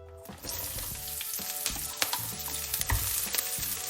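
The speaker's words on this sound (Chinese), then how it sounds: "现在锅中再倒一些食用油，加入切好的葱姜蒜爆香" Chopped scallion, ginger and garlic stir-fried in oil in a wok, the sizzle steady and close, broken by frequent clanking strokes of a metal spatula against the pan.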